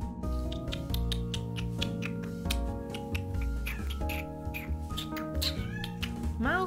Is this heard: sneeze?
no